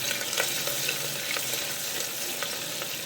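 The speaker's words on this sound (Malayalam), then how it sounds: "ഇതിന്റെ പച്ചമണം മാറുന്നത് വരെ നന്നായിട്ടൊന്ന് വഴറ്റിയെടുക്കാം" Onion-based masala sautéing in a pan gives a steady, close frying sizzle, broken by light scrapes and clicks of a stirring spoon throughout, with no voices.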